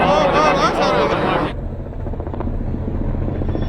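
A loud helicopter-like engine roar fills the first half, then drops to a lower rumble with a voice over it.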